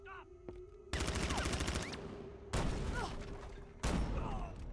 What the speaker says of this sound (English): Guess I have to shoot Riddler.